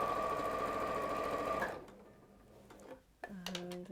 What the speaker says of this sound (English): So just chain stitch these all together.